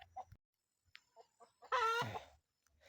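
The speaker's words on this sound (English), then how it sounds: "the hens are crying out" Hens in an African village make soft scattered clucks, then one loud, close, drawn-out squawking call, and a few faint clucks follow in a quiet setting.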